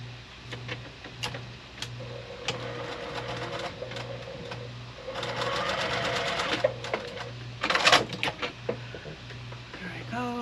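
A sewing machine stitches a spooky Halloween quilt block, with rapid mechanical whirring in short bursts and pauses and a rhythmic ticking hum. Quiet talk can be heard faintly in the background.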